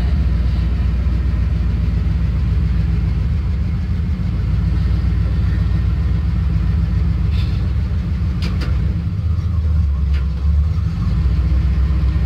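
A 1978 Chevy C10 pickup idles after a cold start while warming up, a steady, loud low rumble that stays close and even throughout, with a slight deepening near the end.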